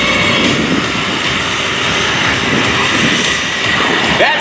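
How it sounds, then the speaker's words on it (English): A de Havilland Twin Otter, flown by the Army Golden Knights parachute team at an airshow, passes by with a loud, continuous turboprop engine roar that stays steady throughout. "that is a de Havilland Twin Otter, one of the aircraft that they use"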